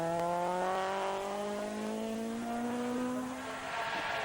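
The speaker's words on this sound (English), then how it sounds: "the high-revving Honda" A high-revving front-wheel-drive Honda rally car engine screams, its pitch climbing steadily as it accelerates, loud and close, with no one speaking, at the 1997 Jersey Rally.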